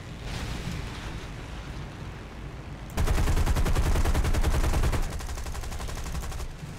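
Machine guns fire in War Thunder, a loud, dense stream of rapid shots that swells into heavier bursts midway, then eases back to a steady rattle, with no voices.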